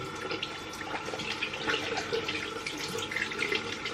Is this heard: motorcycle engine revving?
no